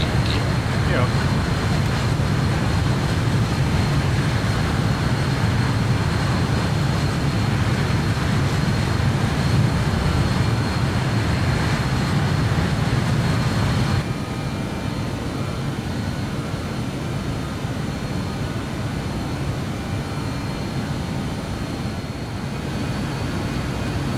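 BAe 146 jet engines roaring in a flight simulator game as the aircraft climbs after takeoff, a loud steady broadband drone that drops slightly in level partway through.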